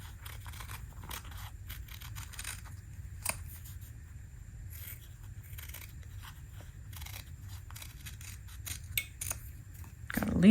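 Scissors snip through fabric while cutting out flower appliqué pieces for a table topper mini quilt, a run of soft, close crunchy cuts in steady irregular rhythm against a low room hum.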